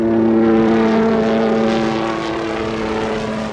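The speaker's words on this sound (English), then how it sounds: "The Department of Natural Resources brought in helicopters with water bombs to help the ground" A 1987 fire is fought by helicopters dropping water bombs, and a loud, droning engine and rotor roar dominates, steady and near at first, then easing slightly.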